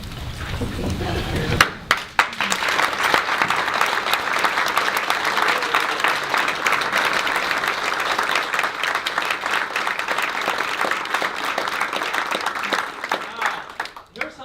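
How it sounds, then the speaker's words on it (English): An audience at a Veterans Day breakfast talk breaks into sustained, loud applause for veterans after a brief spoken moment, the clapping full and steady before tapering off near the end. "You clap, that was great."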